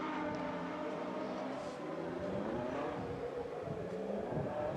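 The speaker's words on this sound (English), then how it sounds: "the safety car has been released, so the cars themselves are released now on their formation lap" Ferrari Challenge race cars roll off on a formation lap at Valencia, a steady blended engine drone from the pack, fairly constant and moderately distant, with no voices.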